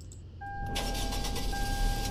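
An old, boxy car in the video game Greenville starts up, its engine catching after a short whine and then settling into a steady mid-pitched running hum with a sustained tonal whir.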